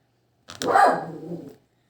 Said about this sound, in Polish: Nie szczekaj ty psie.